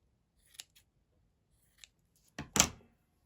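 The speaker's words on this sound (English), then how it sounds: "I've got my fabric scissors now. Right, let's cut this piece of this." Fabric scissors snip through a photograph at close range: a few isolated quiet cuts, then a louder double snip near the end against an otherwise silent background.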